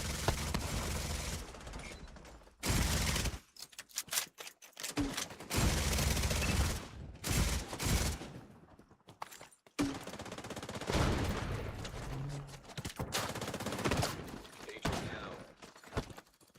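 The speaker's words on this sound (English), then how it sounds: "Gatling guns reaching me over here." Rapid bursts of Gatling gun fire in The Division 2 shooter game, loud sustained mechanical rattling in several long stretches broken by brief pauses, with busy game noise around it.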